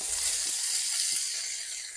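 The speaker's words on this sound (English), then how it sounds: "our bacon has been frying for about 4 minutes" Bacon fries in a pan with a steady, close sizzle and crackle, even and unbroken, with no one talking.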